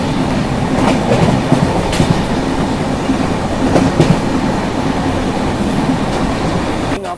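A loud, steady rumble from inside a night train in India, with rhythmic clickety-clack of wheels over rail joints running continuously throughout.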